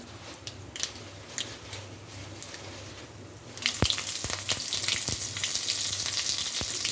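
Mustard seeds hitting hot oil for a tempering in a drumstick-leaf sambar, a quiet low rumble first, then a sudden bright sizzle with sharp popping crackles scattered over the last few seconds.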